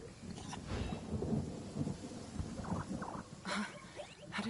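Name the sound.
thunder and rain, Genshin Impact video game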